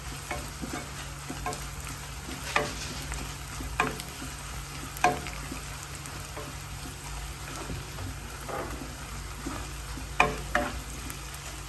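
A teaspoon of garam masala is stirred through a pan of potato roast: a soft continuous sizzle with scattered spoon scrapes and clinks recurring every second or two, close by, with no talking.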